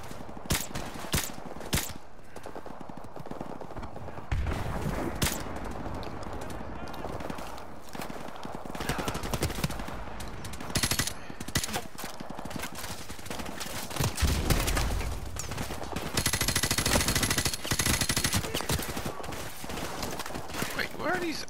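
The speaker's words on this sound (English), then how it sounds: "Where are the bullets coming from?" Rapid gunfire and bursts of shots from the video game Call of Duty: Modern Warfare Remastered, loud and dense with frequent sharp cracks, while a player talks over the action.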